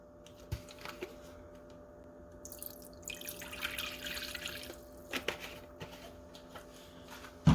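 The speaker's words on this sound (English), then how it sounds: "Gonna pour in some apple cider vinegar." Apple cider vinegar is poured into a cooking pot during a Labor Day cook-in: soft, faint liquid splashes and drips come in scattered bursts over a quiet kitchen background.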